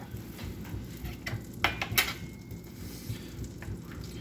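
Butter sizzling in a pan before an omelette, a soft steady sizzle close by with a few light clinks and scrapes of a utensil against the pan, no voices.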